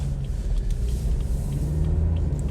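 A 2016 BMW 420d Gran Coupe diesel drives along with a steady, low engine and road rumble throughout and a continuous hum, heard from inside the cabin with no talking.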